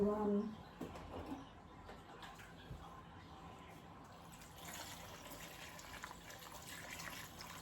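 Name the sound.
pouring water into a crockpot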